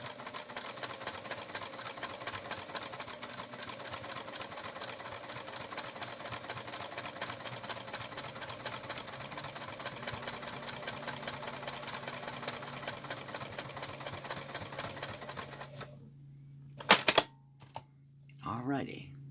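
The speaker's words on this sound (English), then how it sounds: "Now I'm going to stitch it in the ditch." Sewing machine stitching in the ditch on a Lycra loofah mitt, a fast, even mechanical rattle running steadily before stopping, followed by a few brief clicks and handling noises.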